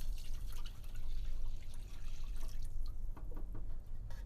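Pineapple pieces and juice poured into a pan while cooking pineapple chicken, giving wet drips, splashes and a soft sizzle close up, with no one speaking.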